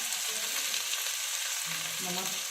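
Chaulai (amaranth) saag cooks in a pan with salt added, giving a soft continuous sizzle and faint stirring, close but quiet, with no voices.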